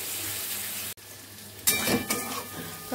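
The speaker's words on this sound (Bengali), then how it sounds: "চলো ভালো করে ফ্রাই করে নিই" Whole spices frying in a pan in a home kitchen, a steady sizzle with sharper crackling bursts from about the midpoint, close and moderately loud, with no talking.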